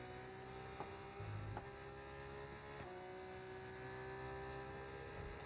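Onboard F2 race car engine in a realistic racing video game at an Australian circuit, a steady high-pitched whine with shifting tones and brief revs, continuous and close throughout.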